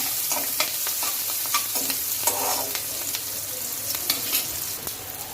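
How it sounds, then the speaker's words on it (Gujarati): Steady, loud sizzling of chopped onion frying in a pan over high heat, with repeated scraping and stirring taps throughout. "ડુંગળી આપણી સરસ શેકાઈ ગઈ છે"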